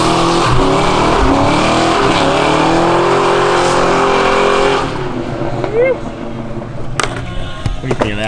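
A Mustang fitted with an angle kit drifts, its engine roaring loud and steady for several seconds before easing off into squealing, skidding tires and scattered knocks, with a voice calling out near the end.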